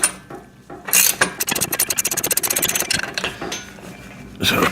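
Ratchet wrench cranking a nut down tight on a VEVOR pec deck and rear delt machine, a loud, fast run of metallic clicks with a few scraping handling sounds before and after.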